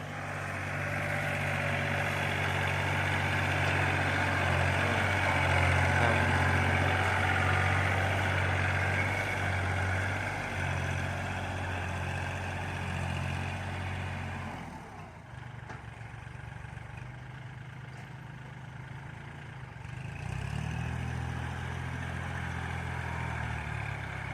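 A Kubota L3218 compact tractor pushes dirt with a steady, loud low diesel drone that dips briefly under load and then recovers.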